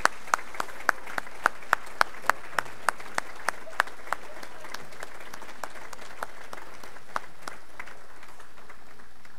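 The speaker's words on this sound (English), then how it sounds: "once again give you some of our applause" Sparse individual claps ring out in a hall at an alumni athletic Hall of Fame ceremony, starting as a quick, fairly close rhythm and thinning into scattered, fading claps.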